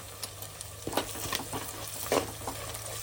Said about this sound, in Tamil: வெங்காயம் நல்லா பொன்னிறமாக வர வரைக்கும் வதங்கணும் இந்த ஸ்டேஜில் நம்ம கருவேப்பிலை போட்டுக்கலாம்